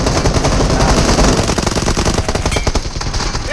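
Dense, loud, continuous automatic gunfire in the battle royale shooter PUBG Mobile, shots rattling close together almost without pause for the whole stretch.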